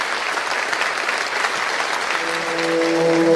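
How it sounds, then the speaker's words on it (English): An audience applauds after an improvised Basque bertso verse performance, loud steady clapping that swells slightly near the end as a sustained tone, likely a voice or instrument, begins underneath. "after each Bertso, the audience is invited to applause."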